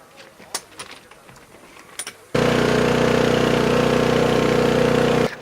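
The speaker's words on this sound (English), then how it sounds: "An air generator was started, and under the latter's tremendous noise, the pneumatic lifting devices were slowly inflated until they touched the underframe of number 4." A loud air generator starts abruptly and runs as a steady, droning engine roar while pneumatic lifting bags are inflated under a derailed railway carriage, after a few seconds of quieter outdoor clatter.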